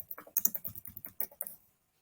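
A short burst of computer keyboard typing as a form name is entered: a quick run of a dozen or so light clicks over about one and a half seconds, close and quiet, then silence.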